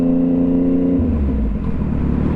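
Motorcycle engine riding through big-city traffic with normal gear shifting, a steady loud drone whose pitch drops sharply about a second in as a gear changes, then carries on at a lower, rougher rumble.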